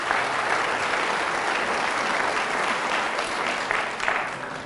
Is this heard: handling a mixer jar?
no